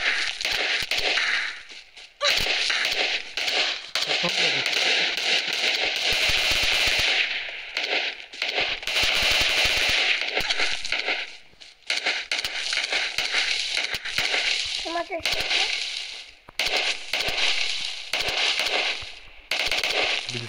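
Rapid automatic gunfire in the mobile battle royale game PUBG Mobile, dense bursts of shots continuing almost unbroken throughout, loud and close with a few brief pauses.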